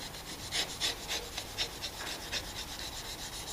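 Steel chisel corner paring a small high spot off a wooden half lap joint, giving a series of short, close rasping scrapes in an uneven rhythm, fairly quiet with no talk.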